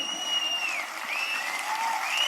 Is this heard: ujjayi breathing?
no